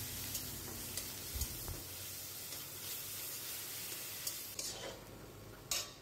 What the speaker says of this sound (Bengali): পেঁয়াজটা একটু বাদামি করে ভেজে নিতে হবে